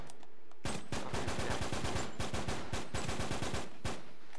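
Rapid bursts of automatic gunfire from the online co-op shooter Uncharted 3, a dense, loud string of shots cutting in after a short quiet lead-in and running steadily to the end.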